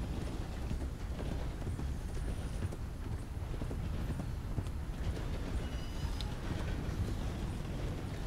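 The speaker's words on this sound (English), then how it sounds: "I'm trying to get past this damn train." A steam train in Red Dead Redemption 2 rolls past with a continuous rumble and a rhythmic clatter of wheels over the rails, loud and close.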